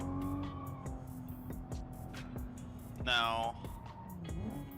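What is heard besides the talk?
little Volvo car driving in video game RO-Scale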